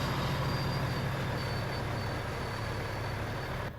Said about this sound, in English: Here comes the train, too.